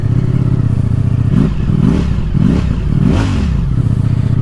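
A sport motorcycle's V4 engine with factory exhaust cranks and catches, then revs in a few rising bursts over a steady rumbling idle, close and loud.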